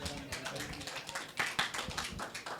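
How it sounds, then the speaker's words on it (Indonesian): A church congregation at a Sunday service breaks into steady, moderately loud clapping that continues throughout, with a few sharper individual claps standing out. "Beri tepuk tangan."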